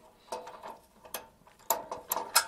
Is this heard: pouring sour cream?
no